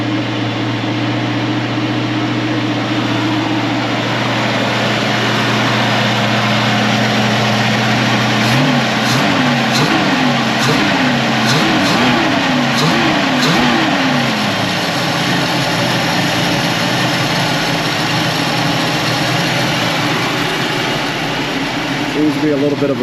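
A hot rod car engine idling high with a miss, a loud continuous drone with a wavering, uneven patch partway through, while someone talks over it.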